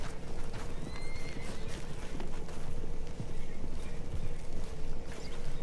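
Galloping horse hooves pound in a rapid, continuous rhythm in the Western video game Red Dead Redemption, with a faint high whinny or two riding over the steady, loud clatter.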